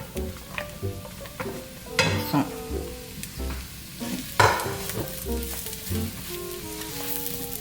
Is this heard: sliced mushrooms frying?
yes